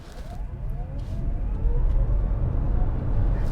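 A dual-motor all-wheel-drive 2023 Toyota bZ4X electric car accelerates hard from a stop, heard from inside as a low, steadily swelling road and tire rumble with a faint rising motor whine and no talking.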